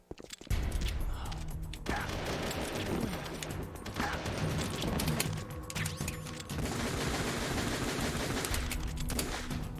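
Dense, continuous gunfire during a Metal Gear Solid: The Twin Snakes battle, with a SOCOM pistol firing amid sustained shots and clatter that fill nearly the whole stretch at steady loudness.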